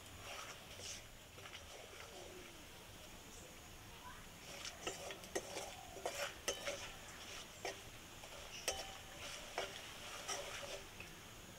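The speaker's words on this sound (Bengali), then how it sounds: "গরম মশলাটা দিয়ে একটুখানি নাড়াচাড়া করে নিচ্ছি" Dry chillies and garam masala stirred in a hot pan with a spoon, a low sizzle broken by repeated scraping clinks that grow busier midway.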